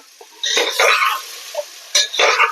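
Sambar mixture frying in a pan while being stirred, giving bursts of loud close sizzling and scraping strokes separated by brief quieter gaps.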